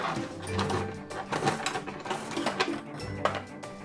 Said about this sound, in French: Il y a donc un tapis roulant, car ce ne serait pas une caisse sans ce tapis. Et il suffit simplement de faire tourner le bouton pour faire glisser les articles